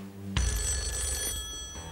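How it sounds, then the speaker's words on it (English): A telephone bell rings loudly and continuously on a TV game show set, its bright metallic trill starting abruptly and holding steady for over a second and a half. "This is going to be one of the more important phone calls of your life, Jeff."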